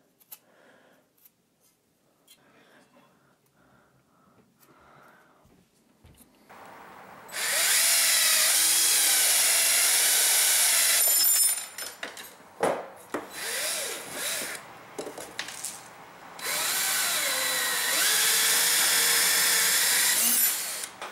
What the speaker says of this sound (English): You can also put the pipe in the drill itself